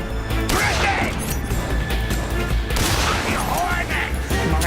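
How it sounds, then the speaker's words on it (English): Rapid AK rifle fire in Metal Gear Solid 3: Snake Eater, continuous loud bursts of cracking shots with ricocheting impacts, packed tightly throughout without pause. "We're just gonna use the AK or something on him."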